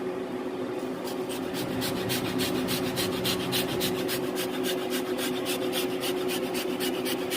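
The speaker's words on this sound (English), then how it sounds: "Now I'm going to grate my piece of chocolate." A piece of chocolate is grated for an asado de puerco, giving a steady run of rapid, rhythmic rasping strokes, close and clear with no talking.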